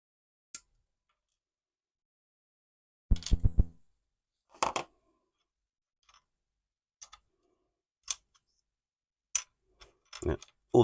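Hobby cutters snipping plastic Megazord model parts off the sprue, sharp isolated clicks and snaps with a quick burst of several cuts, separated by silence.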